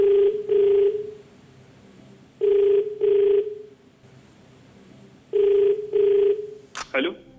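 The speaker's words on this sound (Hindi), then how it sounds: "इनको फोन लगाया जाए" A telephone rings out for a call on the Kaun Banega Crorepati game show, sounding three loud paired double rings with pauses between them, then a brief click as the line connects.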